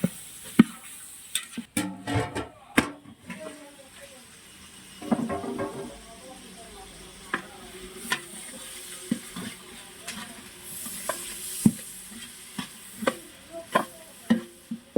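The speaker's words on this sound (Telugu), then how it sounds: "కలుపుకుంటున్నాము." Vegetable biryani ingredients, including carrots and green chillies, stirred in a pot, with scattered scraping clatters, sloshing and knocks of a spoon against metal, close and uneven in rhythm.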